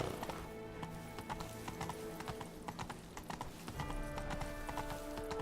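Horse hooves clip-clop steadily in The Witcher 3: Blood and Wine, the rhythmic clatter loud and continuous over game ambience and music, with no talking.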